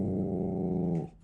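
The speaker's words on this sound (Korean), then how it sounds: "그리고 시작된 으르렁" A dog growls at its owner at home, a low, rumbling, sustained snarl lasting about a second, close and steady before it cuts off.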